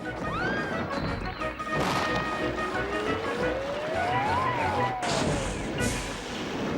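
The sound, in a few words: train braking and crashing in Trainz video game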